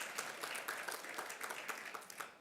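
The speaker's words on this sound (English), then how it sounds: "Big round of applause." Audience applause at a Butterfly Bash 2022 fundraising event, a brief burst of many hands clapping heard faint and distant for a couple of seconds.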